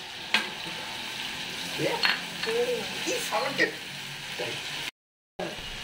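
Ginger, garlic and green chilli paste added to hot oil for a prawn curry, giving a steady sizzle with a few stirring clinks and scrapes, close and fairly loud, with faint talk in places.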